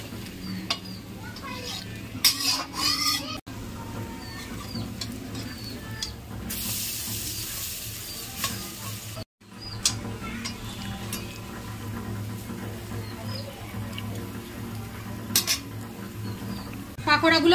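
Pots, pans and metal utensils clatter as fried pakoras are lifted from hot oil in a home kitchen, with sharp scattered clinks and scrapes over a steady background sizzle and one brief silent gap.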